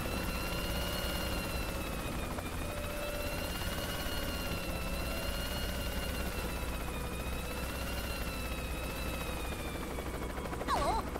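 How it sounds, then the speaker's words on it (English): Steady helicopter rotor drone from a Worms video game, with wavering whining tones that rise and fall, continuous and fairly loud for the whole stretch with a brief burst near the end. "You better be right by a chopper."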